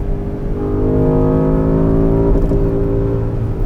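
A Porsche Cayenne Coupe Turbo SUV with a 550-horsepower engine revs hard with a loud, continuous growl and throaty exhaust note, heard up close without talk.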